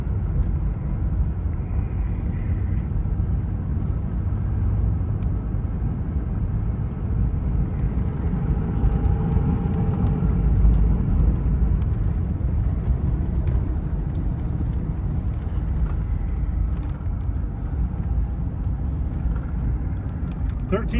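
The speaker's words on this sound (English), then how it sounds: "It's getting easier and easier to accelerate." A GM car pulls uphill on a winding mountain road, its engine droning and rumbling steadily from inside the cabin as it accelerates, with road noise throughout.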